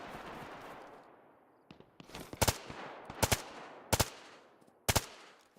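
Several short bursts of gunfire from guns in DayZ come at spaced intervals, each a sharp, loud cluster of shots with quieter echoing pops and background noise in between.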